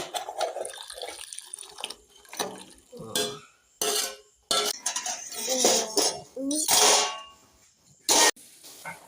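Thai curry scooped from a pot with a ladle, heard as irregular clinks and scrapes of metal on the pot, wet sloshing and splashing, close by with some faint talk mixed in.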